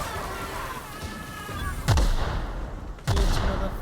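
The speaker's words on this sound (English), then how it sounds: "And there's more cannons down here, huh?" Cannon fire in the video game The Outer Worlds: two heavy booming shots about a second apart, each a sharp loud blast with a low rumbling tail, over steady game background noise.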